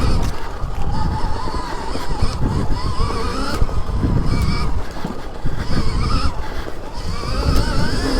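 A Stark Varg electric dirt bike accelerates hard on throttle along a wooded trail loop, its rising electric motor whine carried over continuous loud rushing and rumbling from terrain and wind, with no voices.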